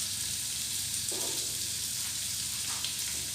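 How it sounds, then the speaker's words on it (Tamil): Onions dropped into hot oil for a chicken gizzard fry give a steady, close hiss that swells slightly as they land, continuous with no talk. "வெங்காயத்தை போட்டுக்கிறேன்."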